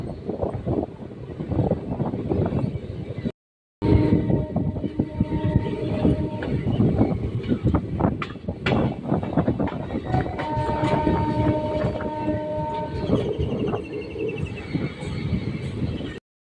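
A passenger train on the Katwa–Ahmadpur railway line rumbles steadily, wheels clattering over the rails in a continuous loud roar, with brief whistle-like tones along the way and a short dropout early on.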